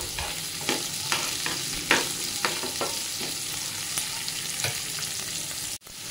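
Onion and green chilli frying in a pan while being stirred, a continuous sizzle broken by repeated scraping strokes and a few clinks of the spoon, close and alone.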